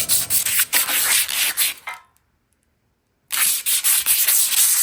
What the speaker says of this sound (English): all we're gonna do is sand this frame real quick